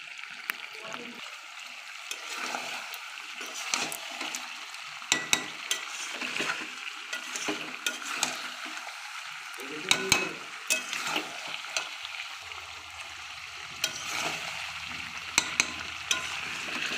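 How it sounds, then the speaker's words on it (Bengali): Duck meat with shahi garam masala sizzling and frying in a pan while being stirred, a steady crackling sizzle with repeated scraping stirs throughout, close and alone. "দেখো আমার মাংস কষা হয়ে গেছে"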